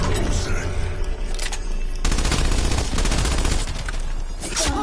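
Rapid, loud automatic gunfire from a gun in a PS4 shooter game, continuous dense bursts with sharp percussive shots over the whole stretch and a brief shift in intensity partway through.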